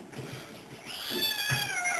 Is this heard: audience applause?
no